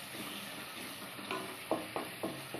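Mushroom gravy frying in a pan as chili, turmeric and coriander powders are stirred in, a steady soft sizzle with several distinct scraping stir strokes near the end, close by and without talk.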